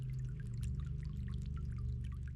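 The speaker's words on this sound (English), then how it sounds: "It's beautiful water sound." Water trickles steadily from an indoor garden fountain, a soft continuous splashing flow with a low hum beneath it, close and even throughout with no talking.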